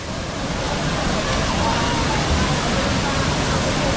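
Aurora Falls in Bulawan roars as a steady, dense wash of falling water, loud and constant, with faint voices mixed beneath it.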